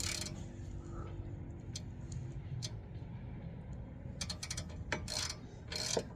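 A ratchet tightens a tie rod on a 2022 Kia Soul, giving bursts of fast metallic clicking against a low steady background hum, close and moderately quiet with scattered sharper ticks toward the end.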